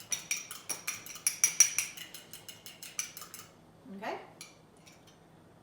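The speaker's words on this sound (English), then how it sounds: "we're going to mix until it's frothy and there aren't any streaks that are darker or lighter colored" Rapid whisking of an egg mixture in a bowl until frothy, a quick run of metallic clinks and taps against the bowl that stop partway, followed by a short spoken word.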